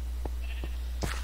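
Sheep bleating in the Minecraft video game, a short game-sound baa rising over a loud steady low hum with a few faint clicks, brief and fairly close.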